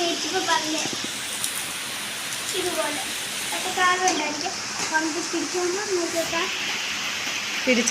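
Steady rain hisses throughout while a person talks over it.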